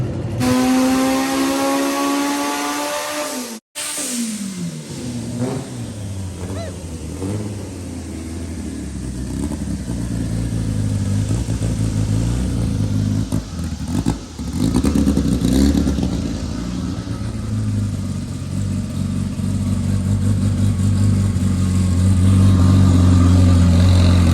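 A turbocharged car engine revs hard and climbs under load, its loud, continuous mechanical roar and exhaust note rising and falling across the run with a brief drop-out early on; no one speaks.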